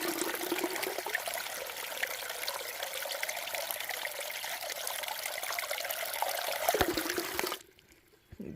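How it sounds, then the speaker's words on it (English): Small water source along the Appalachian Trail trickling steadily as a broad, close, continuous wash for most of the stretch, then cutting off abruptly near the end. "there's a little water source right here that I'm going to grab some water from"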